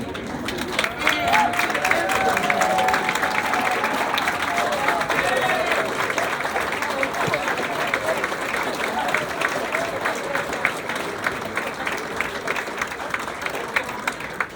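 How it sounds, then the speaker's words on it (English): Sustained crowd applause at a university graduate hooding ceremony, dense and steady from start to finish, with faint voices mixed in underneath. "give them a big round of applause"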